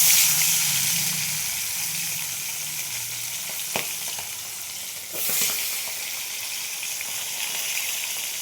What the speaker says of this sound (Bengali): এখানে তেল গরম হচ্ছে, আমি এর মধ্যে নুন হলুদ মাখিয়ে মাছগুলো ভেজে নেব।